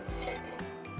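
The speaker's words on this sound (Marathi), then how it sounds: "तवा ठेवलेला आहे" An iron tava griddle is set down on a grill over a charcoal fire, producing a few short metallic clanks and clinks spaced across a brief moment, with no talking.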